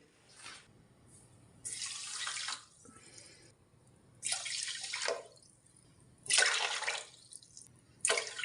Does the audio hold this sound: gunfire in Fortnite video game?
no